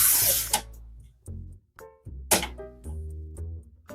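Bolts are screwed in while assembling a desktop PC built around an AMD Ryzen 5 8600G APU, with close, clunky knocks and brief whirring turns of a tool in quick succession.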